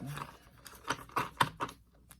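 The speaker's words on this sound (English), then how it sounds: "I did do a pre-shuffle, so I'll just do a quick shuffle here" A new tarot deck gets a quick shuffle, a handful of soft papery riffles and taps in short clustered bursts, close and fairly quiet.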